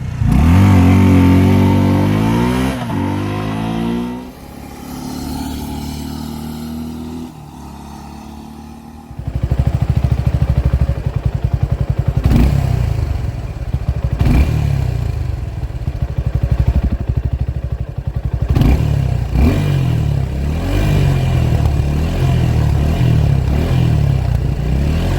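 2022 Suzuki Gixxer 250 motorcycle exhaust, loud and close, with throttle blips that rise and fall before settling into a steady, strong rumbling idle with occasional revs, no voices.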